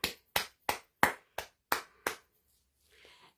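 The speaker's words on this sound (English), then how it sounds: "And clap." Seven sharp, evenly spaced hand claps ring out close and alone at a gathering, each with a short decay, followed by a brief faint rustle.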